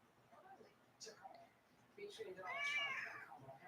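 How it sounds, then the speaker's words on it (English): A small pet cat meows indoors with a drawn-out, rising and falling cry near the end, over low background chatter from a television election broadcast. "You hear my little cat down there?"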